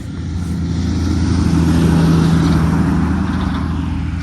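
A heavy truck rolls past on a roadside at dawn, its low engine rumble swelling to a loud, close peak mid-pass before easing off slightly, steady throughout with no voices.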